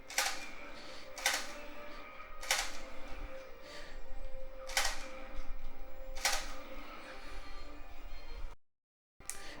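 A Cybergun Desert Eagle plastic light gun for the PlayStation 2 fires in a sharp clattering burst, then its trigger is pulled several times in sequence with loud mechanical clacks spaced about two seconds apart, ending in a brief silence.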